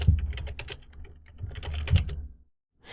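A command is typed on a computer keyboard: a close, quick run of crisp key clicks lasting about two and a half seconds, a brief pause, then a final keystroke.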